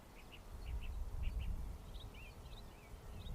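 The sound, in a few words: crow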